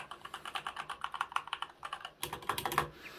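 Fast typing on a CK530 mechanical keyboard at a desk: a dense, close run of crisp key clicks with a short pause before another quick burst, and no voices.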